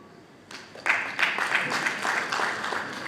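An audience breaks into clapping after a brief quiet start, a dense, even round of applause that holds steady for the rest of the moment.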